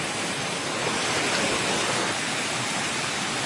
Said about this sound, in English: Oh, hello, raging river.